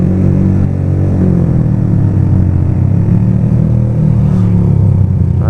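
Three motorcycles with loud aftermarket exhausts rumble and rev together, a dense, close, continuous engine roar with no speech over it.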